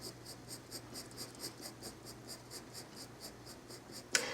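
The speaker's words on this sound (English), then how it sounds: "Using short pencil strokes and letting them flow in the direction in which his feathers grow." A 2B pencil makes quick, regular short strokes on paper while drawing bird feathers, a soft rhythmic scratching repeated many times at close range, ending with a slightly sharper scrape.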